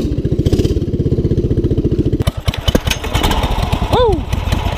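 A small stock engine on a Subaru-powered Yerf Dog go-kart runs loud and close with a steady, rapid putter, then breaks into a rougher, uneven rumble; a voice speaks briefly over the engine noise.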